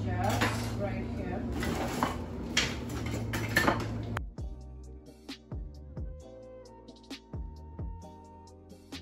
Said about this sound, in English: now I'm gonna organize my spoons and stuff into these jars right here